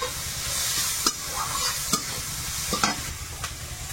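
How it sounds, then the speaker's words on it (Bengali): Salt, turmeric, coriander and cumin powder fry in oil with a bright continuous sizzle, punctuated by a handful of sharp spatula scrapes and taps against the pan, close and steady. "মশলাটা একটু ভেজে নেব"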